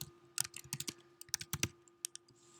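Typing on a computer keyboard during a lecture, heard as quick irregular clusters of close, crisp key clicks with short pauses, over a faint steady hum.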